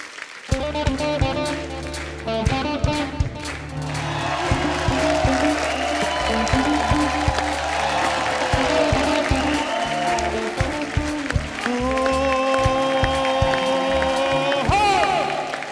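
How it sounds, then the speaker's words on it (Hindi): A comedy show audience gives loud, sustained applause and cheering for arriving guests, dense clapping that swells and continues for several seconds while a host's voice and music come through underneath. "एक बार जोरदार तालियां हमारे मेहमानों के लिए"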